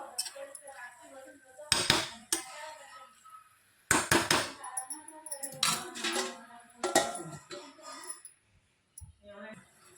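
A metal lid set onto a pan of soybean curry being cooked, giving several sharp clanks and clinks of cookware spread through the stretch, close by with quieter kitchen handling between.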